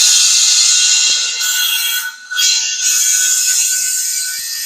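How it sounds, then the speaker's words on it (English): Air steadily fills the pressure tank of a VEVOR tire bead seater, a loud, close, continuous hissing rush that briefly drops out for a moment before carrying on, with no voices. "we will get our pressure tank pumped up"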